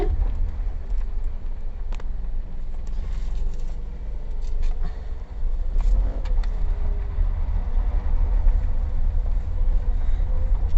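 A Toyota Camry with a 2.4-liter naturally aspirated inline-four gives a steady, low engine and road rumble heard from inside the cabin, with faint rattles and tire noise throughout and no talk.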